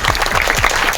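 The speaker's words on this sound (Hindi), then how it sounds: "एक बार जोरदार तालियां आप लोग अपने लिए बना दीजिए" A large crowd at a political gathering breaks into loud applause, a thick, continuous roar of clapping up close with individual claps popping through.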